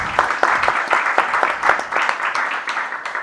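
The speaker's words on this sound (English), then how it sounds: "Give her a warm welcome of applause," Warm audience applause welcoming a speaker at a panel event, a sustained, fairly close round of clapping from a crowd throughout.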